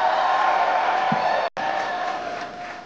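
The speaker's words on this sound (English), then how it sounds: "Wow, what a great crowd." A large crowd at an election night primary victory rally in Maryland cheers and whoops loudly and continuously, with a brief cut partway through before the roar resumes at slightly lower strength.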